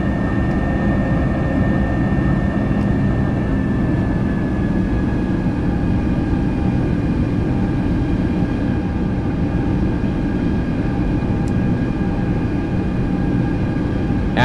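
Airbus A320 jet engines spooling up for takeoff in the X-Plane 11 flight simulator, a steady, loud, continuous roar with a faint whine held throughout, no voices.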